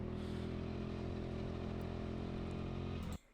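A buzzing small go-kart engine roars steadily at high revs on an indoor track, close and constant, then cuts off abruptly near the end, like a kart passing.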